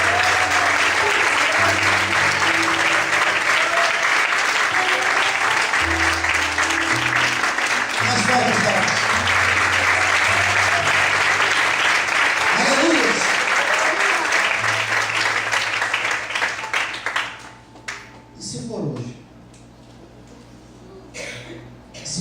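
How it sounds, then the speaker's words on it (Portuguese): A church congregation applauding at an evening service, with loud, steady, dense clapping that fills the hall for most of the stretch and then thins into scattered claps, with voices and music underneath. "Vamos podem aplaudir e exaltar o Senhor nesta noite."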